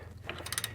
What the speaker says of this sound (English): I've got the ratchet set to loosen